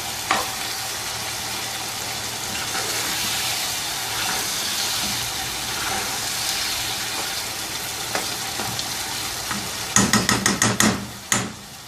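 Chicken ginger masala sizzles and fries steadily in a pan, a constant close hiss, followed near the end by a quick burst of sharp metallic taps and scrapes from stirring.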